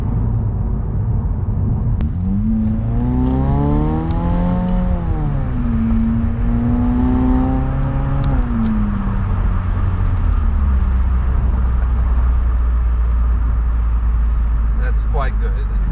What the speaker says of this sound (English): gone up to 6th gear, nice and quiet. Tach is at 1750 RPM, but exhaust is pretty much totally quiet